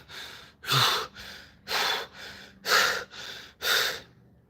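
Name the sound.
controlled heavy breathing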